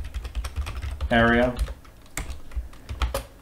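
Keys clatter on a computer keyboard in quick irregular bursts, close to the microphone, with a short spoken word breaking in partway through.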